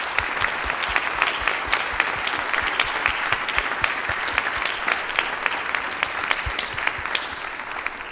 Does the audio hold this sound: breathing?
no